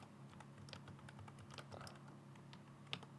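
A title being typed on a computer keyboard, with quick, steady keystrokes at close range over a faint background hum.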